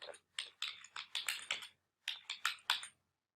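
Typing on a computer keyboard during a web hosting signup, two bursts of rapid key clicks separated by a short pause, close and clear with no talking.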